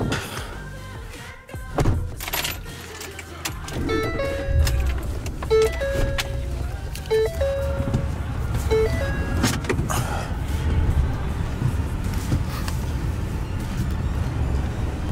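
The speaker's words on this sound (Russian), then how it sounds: "сейчас нужно припарковать машину" A Ford Raptor pickup idles and creeps while being parked at an off-highway vehicle area in Santa Clarita, with a series of electronic warning beeps sounding over the steady engine rumble and road noise.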